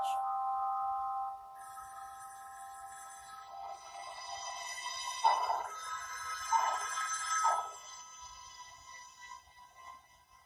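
A telephone rings in repeated electronic bursts, a steady tone giving way to louder warbling pulses, fairly close with faint background noise.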